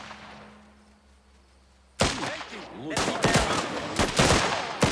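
Machine gun fire erupts in Last Train Home after a quiet, humming stretch: a sudden loud blast, then rapid bursts of gunfire with sharp cracks and echoing reports.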